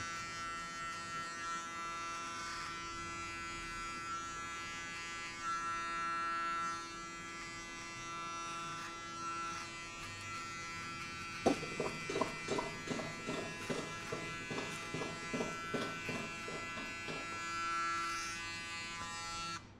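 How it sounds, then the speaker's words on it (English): Electric hair clippers buzz steadily and close by while shaving hair for a buzzcut. About halfway through, the hum breaks into a rapid series of pulsing strokes as the blades pass through the hair. "Do you want to shave your hair off?"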